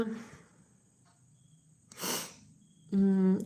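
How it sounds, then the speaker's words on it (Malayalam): One short, harsh cough bursts out in a quiet room, followed moments later by a brief tonal electronic beep. "ചുമയാണ് ചുമ"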